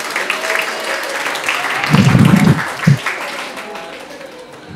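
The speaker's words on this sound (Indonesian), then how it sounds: "Tepuk tangan untuk Rahayu Sensei." Audience in a public lecture hall claps for a speaker, a short burst of applause lasting about a second and a half amid a murmuring room, followed by a few scattered claps.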